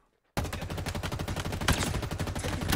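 Pistol gunfire in the video game Halo Infinite, a rapid steady stream of loud close shots beginning abruptly after a moment of silence and continuing without pause.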